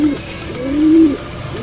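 Pigeons cooing in a Filipino pigeon loft, a low soft coo rising and swelling in a single drawn-out call, close and clear with no talk over it.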